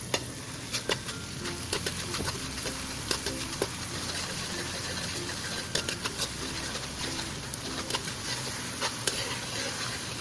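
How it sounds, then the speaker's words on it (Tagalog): Garlic, onion and brown sugar sizzle steadily in a hot pan while a utensil scrapes and stirs in a regular rhythm, with crisp clicks over the constant frying hiss. "mag-brown ng konti yung ating nilagay na bawang at sibuyas"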